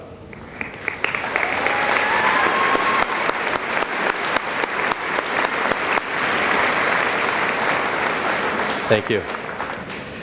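A large commencement crowd claps loudly and steadily for standing host parents, a dense sustained applause that thins slightly near the end as a voice speaks briefly over it.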